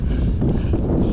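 Cold, wet wind buffets an outdoor microphone during a long run, a loud, low, uneven rumble of gusts over about a second.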